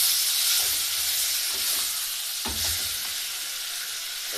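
Tomatoes frying in a pan for a Kenyan ugali and egg dish while being stirred give a steady broadband sizzle, with a louder scrape of the utensil near the middle, with no voices.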